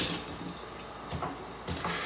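Water for raspberry leaf tea splashes and trickles softly for about two seconds, a faint close pour with a few brief surges.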